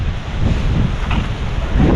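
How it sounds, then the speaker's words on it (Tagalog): Strong, steady wind gusts roar into the microphone outdoors at a sweet potato plot during the cool northeast monsoon, a continuous low rumble with no voices. "Lakas ng hangin ah."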